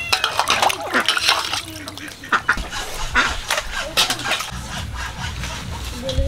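Water splashes and runs over cut fish being washed by hand in a home kitchen, irregular close sloshing and dripping with bird calls nearby and occasional voices.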